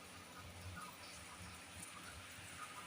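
Heavy monsoon rain falls outside as a faint, steady hiss, while tea with jaggery and ginger simmers indoors; the sound is soft and even throughout, with no talking.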